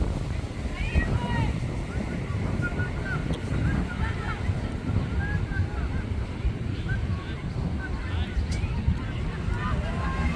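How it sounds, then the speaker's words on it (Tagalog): Heavy wind buffets the microphone in a continuous low, blustery roar, with a voice speaking and distant crowd sounds underneath at an outdoor game. "Super windy po."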